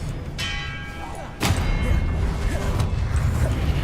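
The Expelliarmus spell is cast in the video game Hogwarts Legacy: a faint ringing tone, then one sharp whooshing crack followed by a loud rumbling swell over continuous background noise.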